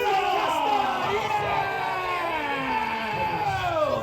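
A crowd of spectators at a Warwick Castle show cheers and whoops for the House of York, a dense wash of overlapping yells and voices sustained loudly throughout.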